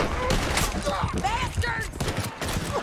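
Gunfire in Red Dead Redemption 2 during a canyon chase with riders: a dense, continuous fusillade of shots and ricochet-like whines, loud and close, with game voices and sounds mixed in throughout.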